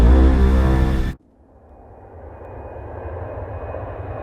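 Aircraft engines pushed to maximum power roar loudly for about a second, then cut off sharply, leaving a low, steady hum that slowly builds.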